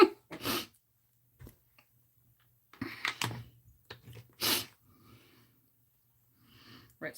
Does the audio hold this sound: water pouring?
no